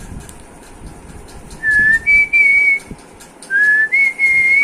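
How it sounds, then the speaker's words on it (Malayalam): A person whistles a short two-note phrase twice, each note held and rising, clear and close over quiet room noise. "ആരാ അവിടെ ചൂളമടിക്കുന്നേ"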